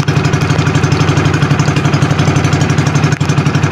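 Small fishing boat engine chugs steadily at low speed, a loud close, even thumping idle with a regular pulsing rhythm and no talk.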